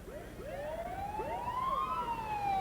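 Emergency vehicle sirens wail in rising and falling sweeps during a parade at the 1985 Bavarian Day Festival in Frankenmuth, several overlapping and fairly loud over crowd noise.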